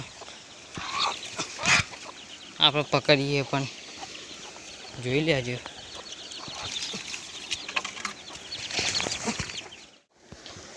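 Chickens cluck and squawk in a few sharp bursts around a rural yard, some close and agitated, with someone talking intermittently between them.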